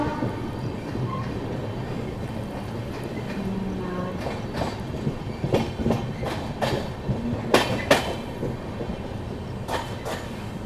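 The Purushottam Express pulls into Gomoh railway station, wheels clattering steadily over rail joints with sharp metallic clicks growing louder and more frequent, a continuous rolling rumble beneath and no speech.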